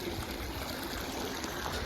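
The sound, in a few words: water flowing from a borewell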